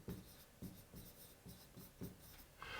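Pen or marker writing out notes during a law lecture on criminal procedure, a run of scratchy strokes in a steady rhythm of about five bursts, close and fairly quiet, with no talk over it.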